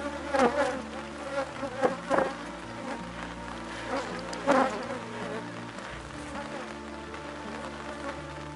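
Honeybees (Apis) buzz steadily at an opened hive during an X-style colony division, a dense close hum with louder swells as bees fly past, and no talk.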